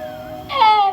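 A human voice imitates a cat's meow, a short rising-then-falling nasal cry under a second long.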